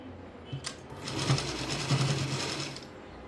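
A home sewing machine runs steadily for about two seconds, stitching a single folded hem on a garment, a soft mechanical whir with a faint click at the start, close and alone with no talking.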